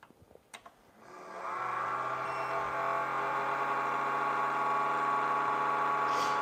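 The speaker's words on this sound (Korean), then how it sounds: "이 킹눈의 팬 소음 때문에 팬을 갈아 끼는 경우가 많습니다." Cooling fan on a Kingroon KP3S 3D printer spins up with a click, then holds a steady, loud whirring hum with a mechanical tonal buzz, close and alone.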